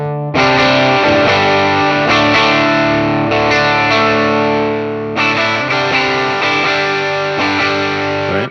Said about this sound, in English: All right, so there's some overdrives